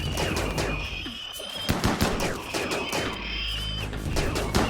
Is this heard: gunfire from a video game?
yes